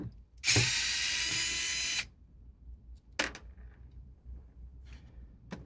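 A power screwdriver whirs for about a second and a half while a bracket is unscrewed from a portable PC, then stops, followed by a short second buzz and faint clicks of parts being handled, close and quiet.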